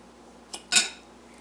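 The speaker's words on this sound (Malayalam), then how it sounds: "ഇനി നമുക്ക് ബാക്കിയുള്ള അരിയും മിക്സിയുടെ ജാറിലേക്ക് ഇട്ട് കൊടുക്കാം" Two quick dry rattling pours, a short one then a louder, longer spill of rice into a mixer grinder jar, with quiet surroundings.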